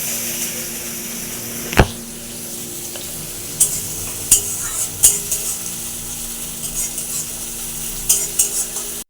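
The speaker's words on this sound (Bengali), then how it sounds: "দিয়ে এটাকে কিছুক্ষণ নাড়বো।" A spatula stirs chopped onion, chili and ginger frying in a wok, with sharp scraping clacks and knocks at uneven intervals over a continuous nearby sizzle.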